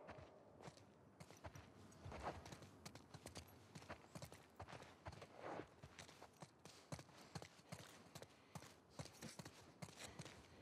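Horses' hooves clip-clopping in The Last of Us Part II, a quiet steady walking rhythm of many hoof strikes continuing throughout.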